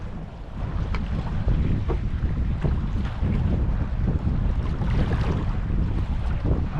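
Steady, loud wind roars across the microphone on a fishing boat at Plum Gut, mixed with a continuous rush of water and waves, with no pauses throughout.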